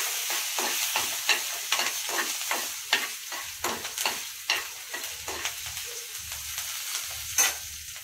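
Washed curry leaves crackle in hot oil with a steady sizzle. Stirring clicks and scrapes tap out an irregular rhythm over eight seconds, close up and moderately loud, with no one speaking.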